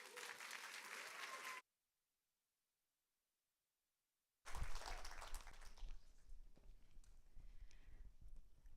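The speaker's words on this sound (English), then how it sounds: "Please give her a round of applause." Applause from the audience at a TEDx event greets a speaker, loud at the start, cut by about three seconds of total silence, then returning and thinning toward the end.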